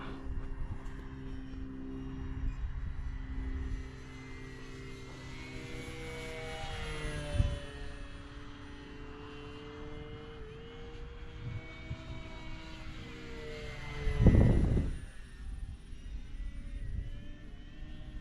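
A 1100mm BlitzRCWorks P-40 Warhawk RC model airplane drones steadily overhead at a moderate distance, its motor tone shifting as it passes, with a couple of brief louder swells.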